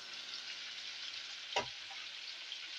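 Meat frying in hot cooking oil for a crunchy finish, a faint steady sizzle with one sharp pop or spatter partway through.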